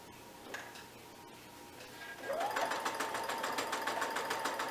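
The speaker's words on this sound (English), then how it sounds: "then I'm going to sew" A sewing machine stitches pieces of quilt fabric together with a quarter-inch seam. It starts with a short rising whir and then runs at a steady, rapid rhythmic clatter that is fairly close and clear, with no talking.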